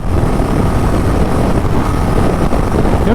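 A Royal Enfield Bullet 350 Battalion Black ridden fast in fifth gear at high speed produces a loud, constant engine drone mixed with heavy wind buffeting across the microphone.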